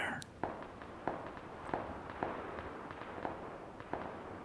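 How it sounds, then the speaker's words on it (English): Distant gunfire in PLAYERUNKNOWN'S BATTLEGROUNDS on PC pops faintly and steadily, roughly every two-thirds of a second, over a soft hiss of game ambience. "You can hear guns going off."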